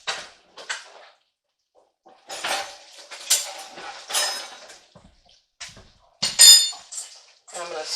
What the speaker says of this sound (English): And I'm going to spoon the sauce over it.